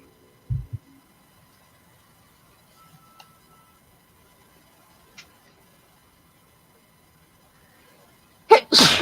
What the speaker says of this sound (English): Just sneeze, sneeze, sneeze.